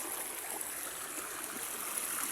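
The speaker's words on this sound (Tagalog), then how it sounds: "Kasi tatawid ako sa ilog." River water flows and trickles continuously, a dense broadband rush heard close and steady throughout with no voices.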